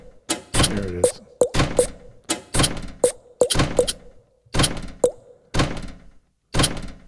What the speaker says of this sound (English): That one you can really hear the household door closing.